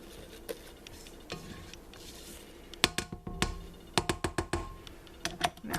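Cocoa chocolate mousse mixed in a bowl, with soft stirring that turns into a quick run of sharp clicks and taps of a utensil against the bowl's sides, close and without talk.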